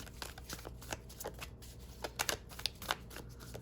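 A deck of tarot cards is shuffled close up, giving rapid papery riffles and soft flicks as the cards are handled and drawn.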